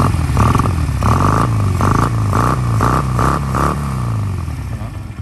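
A 1999 Honda Rebel 125 motorcycle engine idles close by and then revs in a series of rhythmic throttle blips, each pulse rising and falling before settling back to a steady idle.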